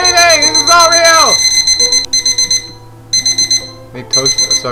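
An alarm clock set up for a toaster rings in loud, rapid pulsing bursts that stop and restart, while voices speak over it.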